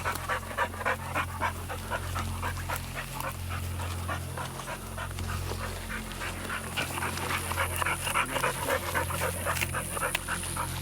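A hunting catch dog pants steadily and rhythmically while sniffing for a trail outdoors at night, close and continuous, with a low steady hum underneath and no talking.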